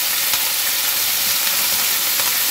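Onion stalks frying in a pan make a loud, dense, continuous sizzling hiss, steady throughout the short stretch with no voices.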